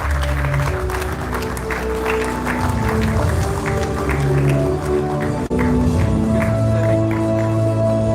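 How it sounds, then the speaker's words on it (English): Applause from a conference audience at an IEEE event welcoming a guest, a steady, loud wash of many hands clapping throughout with sustained music tones underneath. "Please have a big round of applause."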